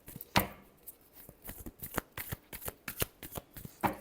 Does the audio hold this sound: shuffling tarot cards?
yes